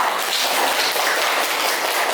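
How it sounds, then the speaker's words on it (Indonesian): Schoolchildren in a classroom clap together, a dense, continuous patter of many small hands that stays even and fairly loud throughout. "Tepuk tangan anak-anak"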